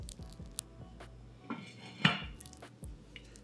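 A lid clanks onto a metal pot of beef stew, one sharp clink standing out among a few lighter rattles and knocks close by, with no talking.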